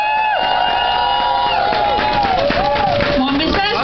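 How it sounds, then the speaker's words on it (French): A crowd at a union rally against education cuts cheers and whoops loudly and continuously, with shouting voices rising over a dense roar of applause. "Je pense qu'ils méritent une bonne main d'applaudissement."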